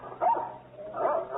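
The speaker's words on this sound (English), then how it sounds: "There's a dog on your lawn." A small dog gives two quick, yappy barks, separated by a short gap and heard at moderate distance, as if from outside on a lawn.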